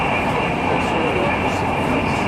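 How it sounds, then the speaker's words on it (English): English train running at speed in London, a steady loud broadband rumble and rush with no pauses, continuous for a couple of seconds. "these English trains don't waste any time at all once they get going"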